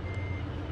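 A truck in a driving video game backs up with its reversing beeper going, steady repeated beeps over a loud low engine rumble throughout the short moment.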